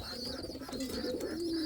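Indian fantail pigeon, a cock chasing a blue bar hen in a loft, giving steady low cooing that runs continuously throughout, close by, with a faint higher tone above it.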